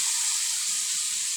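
Vinegar pours into a pan of sautéed kangkong with a soft, steady hiss and light sizzle, a short quiet splash of liquid with no voices.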